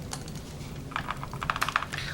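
Typing on a computer keyboard, a quick run of light plastic key clicks, sparse at first and then denser in a brief burst, close and fairly clear with no talk.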